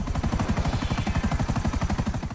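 Helicopter in the video game GTA 5, a steady rapid rotor chop with a pulsing low thump and whine that stays close and loud throughout, with no talk over it.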